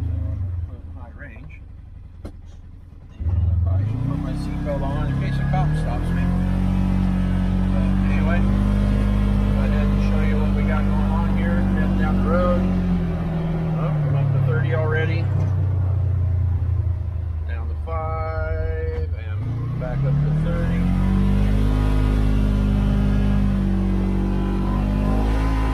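A car drives down a road on a brake test, its engine rumbling loudly and rising and falling in pitch as it accelerates and slows, with voices talking over it.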